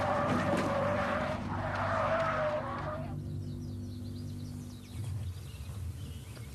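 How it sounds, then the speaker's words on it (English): Car spinning out at around 80 mph, a loud tire skid with a squealing, honk-like screech for a few seconds, then fading into steady engine and road noise. "Aaron learns why he spun out."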